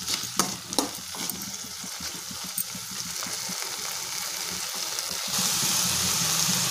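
Chilli garlic fried rice sizzling in a pan with soy sauce, a steady hissing fry with scraping stir strokes early on, the sizzle swelling louder toward the end.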